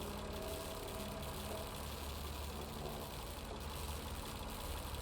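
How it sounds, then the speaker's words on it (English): Diesel generators run inside a shed in the video game Lost Horizon, giving off a steady, faint engine drone with no change throughout. "Judging by the engine noise and the smell, there are diesel generators in this shed."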